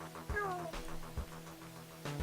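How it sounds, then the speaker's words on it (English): A cat meowing in the Ghost Trick video game, a cartoon kitty in a bandana, gives a few short rising-and-falling meows over quiet game music. "It's a kitty! It's a kitty with a bandana."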